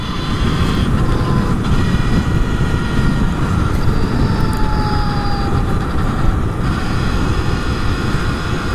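A Brammo Empulse R electric motorcycle accelerates hard in sport mode, a steady loud rush of wind and road roar with a thin rising motor whine over it, continuous throughout, no talking.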